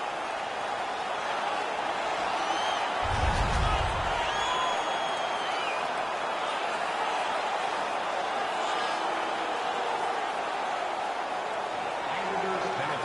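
Hockey arena crowd in a video game roars and cheers steadily after a fight, a dense sustained wash of voices with whistles and shouts, plus a brief low thump early on and commentary-like talk beneath.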